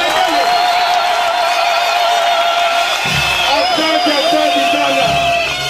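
At a political committee installation ceremony in Lubumbashi, a crowd responds with loud, sustained high-pitched ululation and cheering that fills the whole stretch, with wavering trilled voices over a constant roar.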